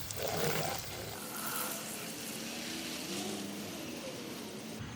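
Tap water running steadily into a bowl, a continuous rushing pour that stays even and moderately loud throughout, with no speech.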